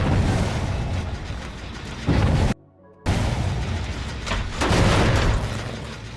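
Booming explosions in a video game burst in heavy, repeated blasts with a brief silent gap, loud and rumbling throughout with no talk over them.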